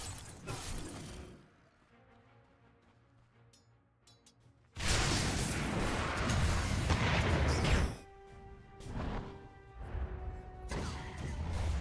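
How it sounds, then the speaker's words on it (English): Dota 2 combat as a tower comes under attack, with explosive booms, crashes and clattering effects. A loud dense burst of impacts in the middle is framed by quieter stretches of game sounds, and there is no talk. "Radiant's middle tower is under attack"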